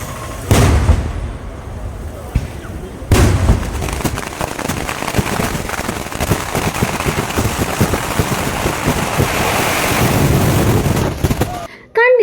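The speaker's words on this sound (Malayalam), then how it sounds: "ഇനി വെടിക്കെട്ട് പ്രേമികൾക്ക് കുറച്ച് ഇടിയും മുഴക്കം കേൾക്കാട്ടോ." Fireworks at a temple festival, with heavy booming blasts at the start followed by a dense, continuous crackling barrage of rapid explosions that stays loud and close until it cuts off near the end.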